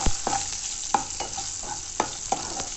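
Chillies fry in hot oil for a north Karnataka green gram palya, a continuous close sizzle broken by sharp, regular scrapes of a spoon stirring against the pan.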